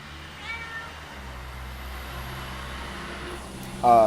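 A cat meows faintly a couple of times in a quiet room, followed by a louder, closer meow at the very end.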